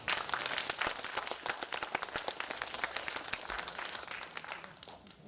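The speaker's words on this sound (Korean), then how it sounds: "박수 한번 주십시오" An audience claps at a children's theatre festival, brisk and fairly soft with individual claps standing out, trailing off near the end.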